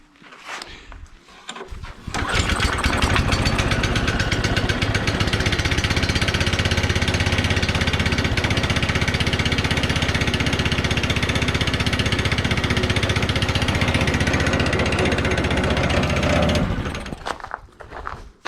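A small single-cylinder engine on a Manco Havoc M5 go-kart fires up after a restart and runs loudly, close by and roughly even, for about fourteen seconds before cutting off, with a few handling noises at the start and end.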